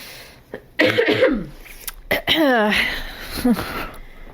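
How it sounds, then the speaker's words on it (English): Several close, harsh coughs mixed with rough throat clearing, coming in short bursts separated by brief pauses. "pause for a second and cough."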